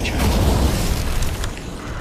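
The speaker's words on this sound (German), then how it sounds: "Wow, it exploded! You blew that hunk of junk to smithereens." In the Skyforge video game, a heavy boom rolls out as a hunk of machinery blows apart, a loud low rumble with mechanical rattling and debris on top that fades slightly over two seconds.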